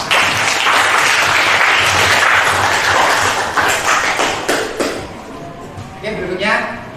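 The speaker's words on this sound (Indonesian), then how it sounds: "Tepuk tangan untuk semuanya." Audience applause at a school gathering on positive school culture, a dense wash of clapping that holds steady for several seconds, then thins out with some talking near the end.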